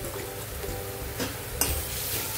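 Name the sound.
frying ground coriander, green chilli and garlic paste with onions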